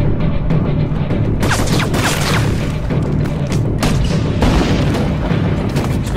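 Repeated heavy booms and blasts from an AC-130 Spectre gunship firing on enemy barracks in an animated Call of Duty cartoon, dense and continuous with sharp explosive hits throughout.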